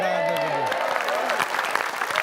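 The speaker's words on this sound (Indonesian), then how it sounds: "Tepuk tangan" A studio audience breaks into applause after a sustained tone fades, a brisk burst of clapping with some cheering and crowd murmur running to the end.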